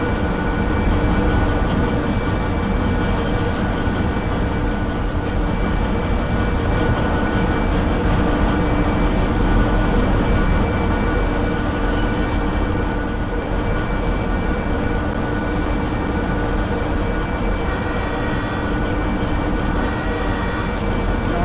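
A three-engine train in Derail Valley rumbles steadily along, a loud continuous roar of engines and wheels with no talking, a brief hiss near the end.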